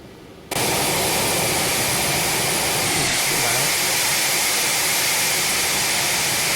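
Embraer Phenom 300 business jet engines in flight in X-Plane 11, a steady loud broadband turbine roar that starts abruptly after a brief quieter lead-in and holds constant throughout.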